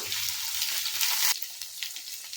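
Tomatoes and shallots fry in oil in a pan for bitter gourd curry, giving a steady, loud hiss that drops to a softer, crackling sizzle partway through. No one speaks.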